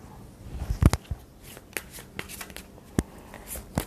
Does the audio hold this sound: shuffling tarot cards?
yes